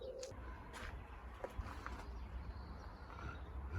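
A pigeon coos faintly in a quiet outdoor spot, soft low calls over a steady wind-like hush.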